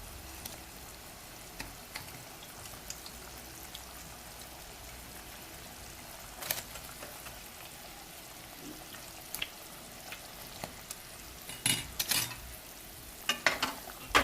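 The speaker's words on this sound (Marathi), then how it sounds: "आता यामध्ये आपण ह्या सुरमईचे जे पीस आहेत ते सर्व टाकूयात।" King fish (surmai) pieces go into a bubbling orange curry: a soft, steady simmering hiss with scattered splashes and clinks that grow busier and louder toward the end.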